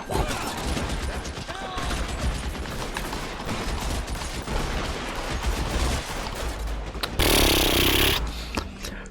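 Sustained gunfire from a shootout in the L.A. Noire video game: dense, rapid shots and bursts crackling continuously for about nine seconds, ending in a louder, harsher blast near the end.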